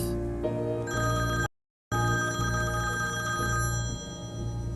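A telephone rings loud and steady in a tense domestic scene, a continuous electronic ring tone that breaks off for a moment and then starts again.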